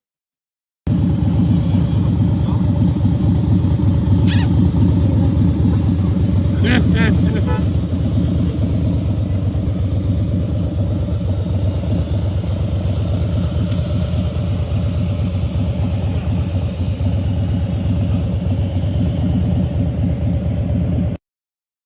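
A motorcycle idles at a traffic light with a constant low, throbbing rumble that holds steady throughout, close and fairly loud.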